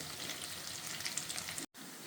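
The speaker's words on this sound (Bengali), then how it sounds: "আমি একদম কড়া করে ভেজে নিব" Prawn pakora deep frying in hot oil until crisp, a steady close sizzle and bubbling hiss that drops out for a brief moment before resuming.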